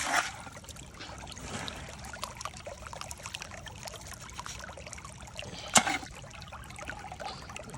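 Water trickles and splashes steadily through a mudder sucker gold sluice, a quiet continuous babble outdoors with one sharp knock near the end.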